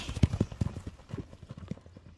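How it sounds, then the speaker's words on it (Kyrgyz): Hooves of a muscular racehorse clip-clop in a quick, uneven rhythm, close and fairly loud, fading slightly toward the end with no talking over them. "Монда булчуңдуу ат экен, караңыздар."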